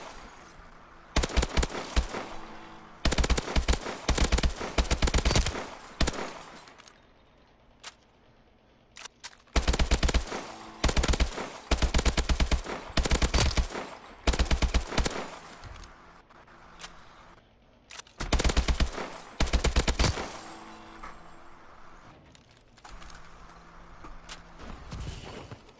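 Bursts of rapid automatic gunfire from a weapon being test-fired in a video game, several loud sustained volleys separated by short pauses, with quieter single shots in between.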